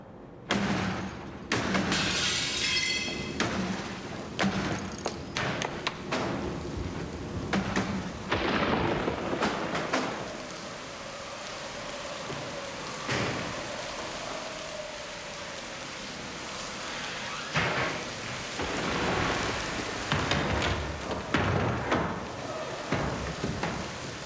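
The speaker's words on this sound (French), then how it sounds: "L'orage." A thunderstorm with steady rain and rolling rumbles of thunder, the broadband wash swelling and easing over a long stretch without any voices.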